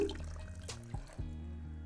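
Water is poured into a blended raw mango mixture for juice, giving a brief gurgling splash with a couple of low liquid plops, close and fairly quiet, with no talking.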